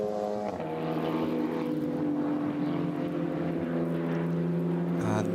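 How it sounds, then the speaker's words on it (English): A Manthey Porsche race car sweeps through the Tiergarten section of the Nürburgring during an endurance race, a loud sustained engine note with strong tonal harmonics holding steady then dropping in pitch near the end as it passes. "Manthey Porsche just coming into Tiergarten now"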